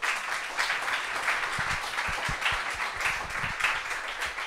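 A crowd applauds steadily, a dense wash of clapping heard from a moderate distance throughout.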